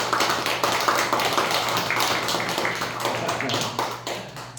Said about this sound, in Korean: 환영의 박수 한번 쳐주십시오